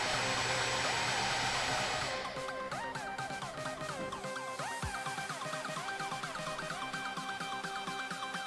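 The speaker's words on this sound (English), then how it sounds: "This dual propeller ducted fan has a very high airflow rate" A 3D printed dual propeller electric ducted fan spins up and runs steadily, a loud continuous whine with tonal pitch shifts as throttle changes, alone without talk.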